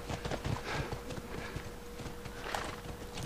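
Horse hooves clip-clop in a quick, steady rhythm in The Last of Us, approaching over a soft background hiss at fairly low volume, with no talking.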